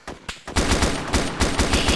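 Rapid automatic gunfire in ARMA 2's DayZ mod, a few scattered shots opening into a loud, close, continuous burst of rattling rounds.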